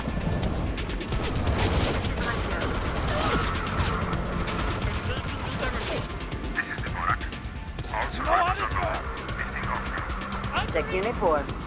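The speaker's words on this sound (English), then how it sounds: "Clancy, we are opening fire at hostiles." Combat units opening fire on hostiles in Tom Clancy's EndWar, a sustained din of distant and near gunfire and crashes layered with radio chatter and battle noise throughout.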